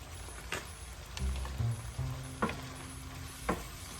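Meat cooking in a pan with taco seasoning, a soft continuous sizzle with a few sharp scraping knocks of stirring and a low hum underneath.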